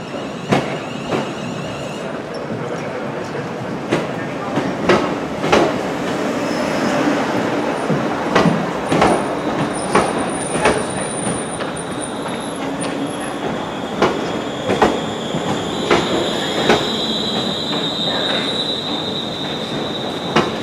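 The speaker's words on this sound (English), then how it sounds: "Here comes our train, 350 101." An electric passenger train, unit 350 101, rolls in loud and close, wheels squealing against the rails over a steady rumble and rhythmic clacks over the track joints.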